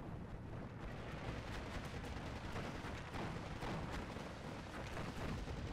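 Dense, continuous rumble of bombing explosions and battlefield fire from a JU-88 strike in the WWII strategy game Steel Division 2, a steady roar of blasts and crackling impacts without pause or talk.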